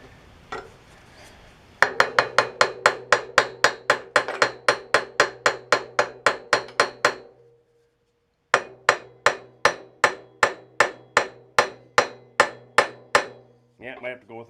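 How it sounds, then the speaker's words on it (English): Repeated hammer blows ring out against the flywheel of a 1966 Briggs & Stratton small engine, a long series of sharp metallic strikes in steady rhythm, a pause, then another run of evenly spaced hits, loud and close. "So sometimes we can just wrap this with a hammer and pry up a little"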